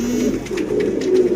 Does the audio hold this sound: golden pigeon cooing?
yes